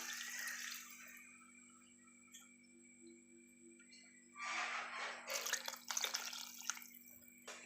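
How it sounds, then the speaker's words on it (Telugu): Water poured from a glass into a pot of rice for soya pulao, a soft trickle at first, then a louder splashing gush toward the end, close by, with a faint steady hum underneath. "ఒకటిన్నర గ్లాస్ నీళ్ళు పోసుకోవాలి ఇలా నీళ్ళు పోసేసుకొని"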